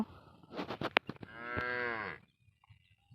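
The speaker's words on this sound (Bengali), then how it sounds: "দেখেন কত গরু হাজার হাজার গরু" Cattle on a river char sandbar in the India–Bangladesh border area: a few short grunting calls, then one long, loud, drawn-out moo close by, followed by quiet.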